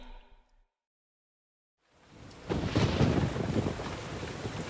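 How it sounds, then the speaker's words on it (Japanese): Heavy rain pours down in a forest, a loud, dense roar that begins after a stretch of silence, with low rumbling like thunder mixed into the wash of rainfall. "森では何日も大雨が続いています。"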